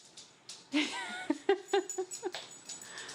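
A small dog whimpers and yips in a series of short, high-pitched cries close by, with a faint murmur of background noise.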